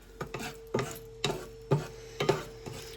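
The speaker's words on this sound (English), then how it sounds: "I'm going to heat this over medium-high heat and stir it until it's nice and fragrant." Spices are stirred in a pan over medium-high heat, with a series of sharp, close utensil scrapes and taps against the pan in an irregular rhythm over a faint sizzle.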